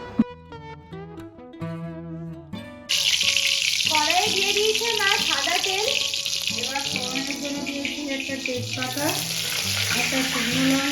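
White cooking oil heats in a kadai on a gas stove, where a dense, steady sizzle bursts in abruptly after a few seconds of tonal music and then continues up close for the rest.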